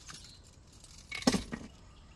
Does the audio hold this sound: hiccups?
no